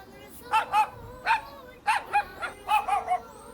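A cartoon dog barks in a series of short yaps and yips, about eight bursts in uneven clusters, close and moderately loud over a light background bed.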